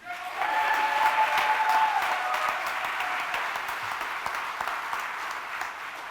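Audience applause for honoree Joe Lacey at an LGBTQ history awards ceremony in Dayton, a steady dense clapping that swells in quickly and holds loud for about six seconds before easing slightly.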